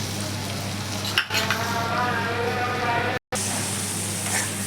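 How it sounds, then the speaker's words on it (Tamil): Boiling jaggery syrup is stirred into raw mango pachadi in a home kitchen, a steady close bubbling sizzle with soft scraping of the spoon against the pot, briefly cut by a short gap. "ஒரு 5 நிமிஷம் அப்படியே கிளறி நல்லா வெந்து குழம்புன்னு வந்தோடனே ஆஃப் பண்ணிடுறோம்"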